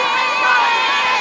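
Crowd at the Chicago St. Patrick's Day parade on a chilly day, a loud, dense roar of cheering and children shouting, continuous and close throughout the brief moment.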